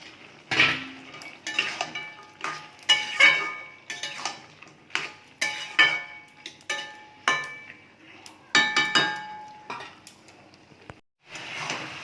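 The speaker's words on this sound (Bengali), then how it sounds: "এবার ভাজা বড়িগুলো দিয়ে দিচ্ছি" Fried lentil dumplings are dropped and stirred into spinach in a cooking pan, a series of sharp metallic scrapes and clinks from a utensil against the pan, spaced irregularly and fairly close.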